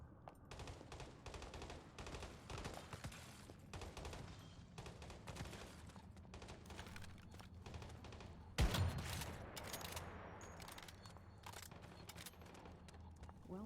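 Gunfire in a video game, with repeated sharp shots in quick bursts through a quiet mix. One heavier impact lands partway through.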